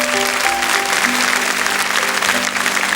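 A television studio audience claps steadily and fairly loudly for a young contestant on a 1980s French variety show, with faint sustained musical tones underneath.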